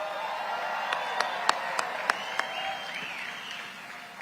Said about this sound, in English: Let's give that young lady another round of applause.